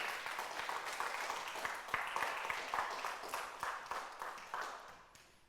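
A church congregation applauds the Lord during a Sunday service, steady faint clapping with sharper individual claps throughout, heard from a distance.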